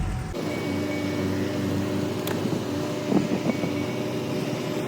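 A car that has just started idles steadily and close by, a continuous low rumble with a few faint knocks and some wind noise. No one speaks.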